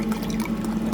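Water runs steadily into an Instant Pot pan to rinse it out after cooking country-style pork ribs, a continuous close, even pouring wash with no voices.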